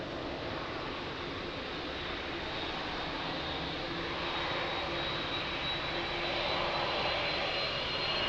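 Steady roar of large jet airliners, a Boeing 787 and an Airbus A330, at Lisbon Airport, a broad continuous engine rumble that swells slightly louder toward the end, with no voices.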